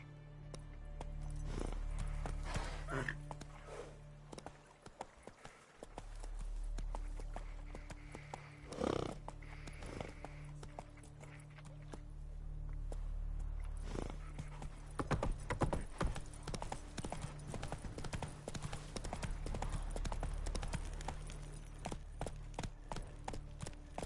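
Horse hooves clip-clop steadily through a Witcher 3 game scene, with occasional snorts and whinnies over a low ambient music bed, the hoofbeats growing busier and more rapid toward the end.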